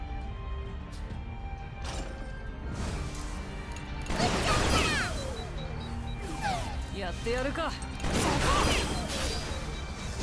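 Tank machine guns fire in Fuga: Melodies of Steel 3, heard as two loud rattling, crashing bursts amid mechanical clanks and game effects, with someone talking over parts of it.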